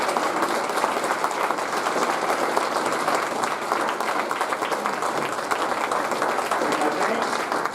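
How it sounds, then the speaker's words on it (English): Sustained applause from a large crowd at a hall of fame luncheon, steady and dense clapping filling the space without a break. "one more round of applause for the inductees of 2020"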